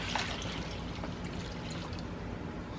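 Water pours into clay inside an enamelware pot, a steady splashing trickle with gurgles and drips running continuously and fairly close, with no talk over it.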